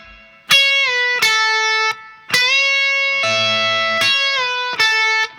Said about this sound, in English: play them staccato with an overdriven sound like this